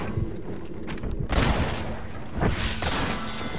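Gunshots ring out in Red Dead Redemption. Several sharp, booming reports cut through a continuous background rumble, with the strongest blasts near 1.3 and 2.4 seconds.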